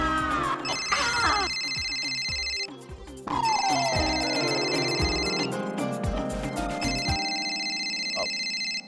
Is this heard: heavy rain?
no